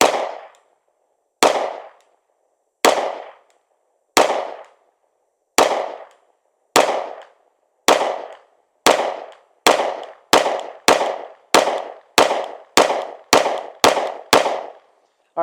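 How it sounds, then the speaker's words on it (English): A Sig P365x Macro Comp compensated pistol fires about seventeen sharp, loud, close shots, spaced evenly at first, then coming quicker toward the end. "I'm gonna be shooting at that one now."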